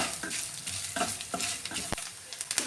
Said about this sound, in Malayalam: ഈ നെയ്യിലൊന്ന് വറുത്ത് ചേർത്ത് കൊടുക്കാമേ